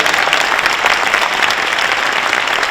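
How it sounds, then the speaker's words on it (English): Audience applause at a Lowell High School distinguished alumni ceremony, a dense, steady wash of many hands clapping close by, with no voices over it. "You give another round of applause."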